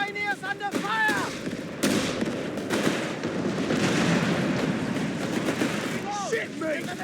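Gunfire and artillery in the Company of Heroes 3 video game, North Africa battle: a dense, continuous rattle of shots and blasts with brief game voice lines cutting through at the start and end.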